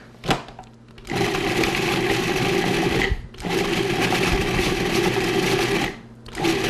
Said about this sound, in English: Just put these into a Cuisinart